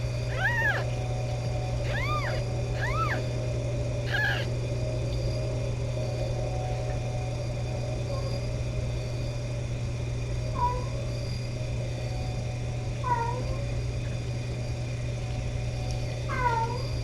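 A feral mother cat and her newborn kittens meow: a cluster of clear, close mews early on, then scattered fainter calls over a constant electrical hum.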